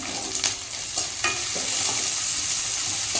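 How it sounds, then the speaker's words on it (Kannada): Sliced onions fry in a pan for radish palya, a steady close sizzle broken by a few sharp stirring scrapes and clicks, with no talking. "ಇದು ಚೆನ್ನಾಗಿ ಫ್ರೈ ಆಗಲಿ."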